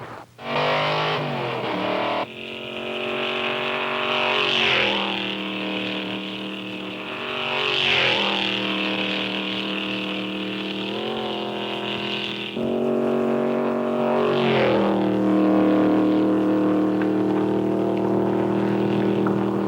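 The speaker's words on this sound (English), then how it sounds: "That's the sound of the quickest production sports car in the world today, the Cobra." A Shelby Cobra sports car engine revs hard at racing speed on a track, loud and close, with rising pitch sweeps and several gear changes that briefly drop the tone.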